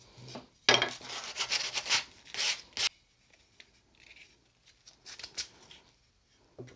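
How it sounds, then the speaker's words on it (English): Medium grit sandpaper rubbed by hand on the blade of a small backsaw being restored, close, uneven scratchy strokes in bursts with pauses between them. "we're going to use the medium grit sandpaper to get rid of most of the scratch marks from the coarse grit"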